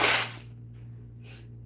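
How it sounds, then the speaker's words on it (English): One sharp, breathy human sneeze bursts out close and loud, then fades into a quiet hum with faint breaths afterward. "I'm sneezing."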